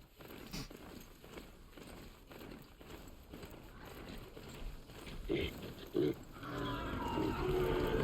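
A mount galloping in the video game Horizon Zero Dawn, giving rapid, even hoofbeats that build and grow louder over several seconds against a steady background.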